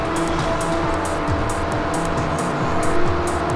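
KITT races with turbo boost in the Knight Rider video game, a continuous loud engine drone with repeated rising rev sweeps and tire noise throughout, no talking.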